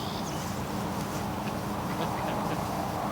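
Ducks quack steadily while being chased off by a drake named Doug, a dense continuous flurry of calls over broadband outdoor noise.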